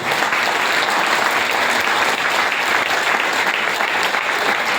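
A seminar crowd at a business motivational event keeps up loud, dense, even clapping from start to finish with no talking.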